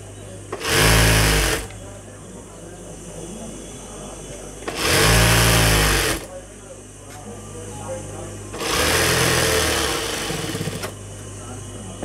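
A sewing machine runs in three separate bursts of about a second each, stitching reinforcing tacks on a salwar. Each burst is a close, loud whirring rattle, with a steady background hum and someone talking between the runs.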